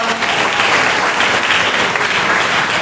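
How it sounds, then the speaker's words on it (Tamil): A church congregation at a Christmas celebration claps together in thanks, a loud, steady, close burst of applause that lasts the whole stretch, with only faint voices in the mix. "எல்லாரும் கைத்தட்டி ஏசப்பாவுக்கு நன்றி சொல்லலாமா?"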